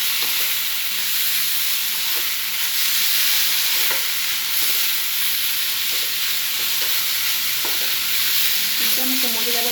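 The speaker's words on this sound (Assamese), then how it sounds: "আলুখিনি ভালকৈ 5 মিনিটমান সময় গোটেইখিনি মিক্সাৰকৈ ভাজি ল'ব।" Mashed potato mixture fries in a pan for an Assamese fish curry, giving a steady, close sizzle with scattered clicks and scrapes of stirring throughout.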